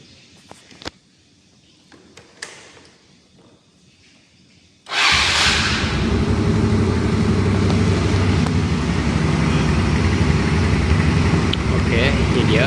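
A motorcycle engine starts up and keeps idling steadily and loudly for several seconds after a few quiet handling clicks.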